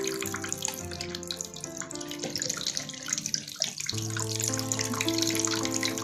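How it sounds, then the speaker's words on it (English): Water gushes from holes at different heights in a bottle during a classroom pressure demonstration, a continuous close splashing hiss with a soft tonal background and no talking. "water rushing out from the highest hole falls nearest and water rushing out from the lowest hole goes the farthest."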